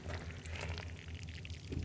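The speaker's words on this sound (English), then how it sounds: "You just see the water dripping out of it." Water pouring and dripping out of a flood-damaged trailer after a flash flood, a steady splashing trickle close by under outdoor background noise.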